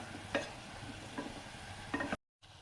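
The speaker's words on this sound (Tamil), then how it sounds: "இப்போ பாருங்கள், 5 மினிட்ஸ் வரைக்கும் நம்ம எண்ணெயிலே மட்டனை நல்லா வதக்கியாச்சு" Mutton stirred and sautéed in hot oil for a spicy pepper sukka, a steady close sizzle with a few louder scraping stirs, then a brief cut to silence near the end.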